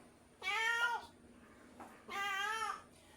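Two pet cats meow loudly and close by as they are fed bread, two drawn-out calls separated by a short pause, with no talk over them.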